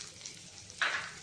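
Sliced onion and green chili dropped into about two tablespoons of hot oil in a kadai for chilli potato, a quiet hiss that jumps into a bright close sizzle partway through.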